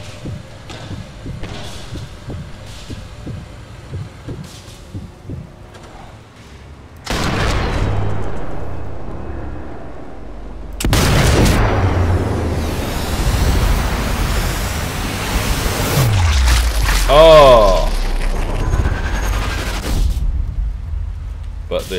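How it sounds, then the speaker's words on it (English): A rifle gunshot in Sniper Elite 4 booms out as a loud, sudden blast, followed by heavy rumbling thuds and a sweeping whine amid ongoing game ambience. "They heard the gunshot."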